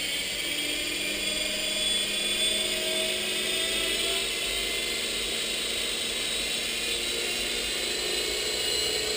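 A radio-controlled model helicopter whines steadily nearby, its rotor and motor producing a continuous high-pitched buzz with slowly shifting tones as it lifts off, with no talk heard over it.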